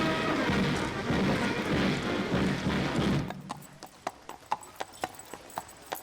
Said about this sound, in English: But Black, King Christian X's young horse, allows his master to continue his daily promenade among his subjects.